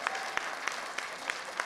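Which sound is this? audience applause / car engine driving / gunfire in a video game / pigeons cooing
audience applause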